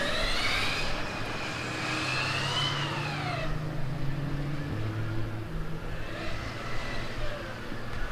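Formula Student driverless race car running a trackdrive lap at FSG 2025, passing at a distance with a steady electric-motor whine that rises and falls in pitch against constant background noise, no talk.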